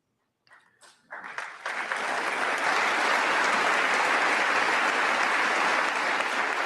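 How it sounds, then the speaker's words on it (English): Applause from an audience swells quickly after a few scattered claps and then holds as a loud, steady roar of clapping. "Yes, clap for me."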